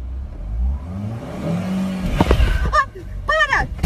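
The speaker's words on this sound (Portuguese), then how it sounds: "Aí você vai soltando a embreagem e vai acelerando." Car engine of a learner driver revving up as the clutch is let out and the throttle pressed, a rising mechanical drone under excited voices, with louder shouting near the end.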